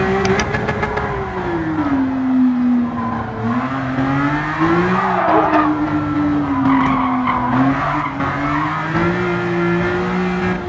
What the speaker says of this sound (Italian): Voglio sentire che sound che può avere un'auto come questa preparata dalla RUF.